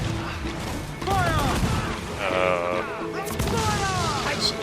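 Heavy ship cannons booming with round shot in the naval combat of Assassin's Creed IV: Black Flag, several loud overlapping blasts and crashes amid rumbling battle noise and ringing tonal game sounds.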